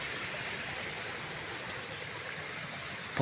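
A mountain stream in a forest, swollen with high water, rushes with a steady, dense wash of flowing water that holds even from start to finish, close and continuous with no voices over it.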